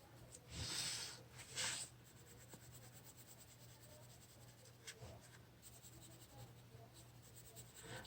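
Pencil shading a drawing, soft papery scratching strokes close up, with two louder bursts early on and then a quieter, steady rasp over a low background hum.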